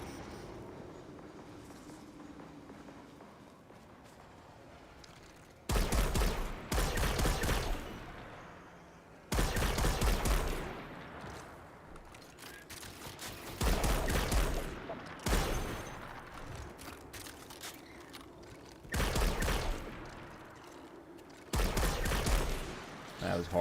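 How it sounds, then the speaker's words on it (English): Gunfire from the video game Destiny 2 comes in repeated loud bursts of rapid shots separated by quieter gaps, over a low game ambience. "That was horrible shooting."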